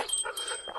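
A thirsty dog being led toward a river for water gives a brief, close, high whimper of a few quick yelps, heard alone for under a second.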